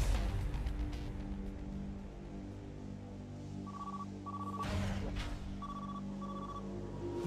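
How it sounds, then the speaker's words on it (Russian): A mobile phone rings in the Need for Speed Underground 2 racing game, its short repeated beeping tones rising over a steady game music and engine bed, with no voices. "Мобила звонит."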